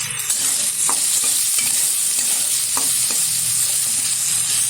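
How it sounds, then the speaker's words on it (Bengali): Potatoes sizzle steadily in a hot pan with salt added, with a few scraping stirs of a utensil cutting through the continuous loud frying hiss. "আলুটা একটু সুন্দরভাবে ভেজে নেবো"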